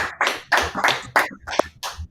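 A small class group clapping after a lesson, a few uneven bursts of hand claps close by, loose and irregular rather than a full ovation.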